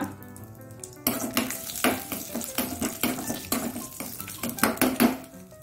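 Cashew nuts frying in ghee in a pan, a spoon clattering and scraping against the metal in quick uneven strokes over a light sizzle, close and fairly loud, with no speech.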